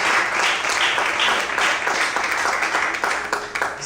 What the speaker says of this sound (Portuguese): Você pode aplaudir e exaltar bem forte o Senhor Jesus.